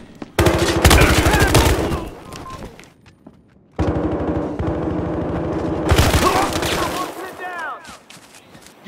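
Automatic gunfire in a tactical shooter video game erupts in loud, rapid bursts, two long volleys separated by a short lull, with shouted voices mixed in.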